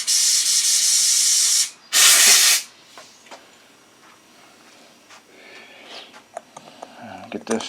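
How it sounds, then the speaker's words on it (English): Compressed air blasts through a lawn mower carburetor during small-engine repair: two loud, close bursts of broadband hiss, a long one then a short one, followed by quieter clicks and handling noises. "A little compressed air now."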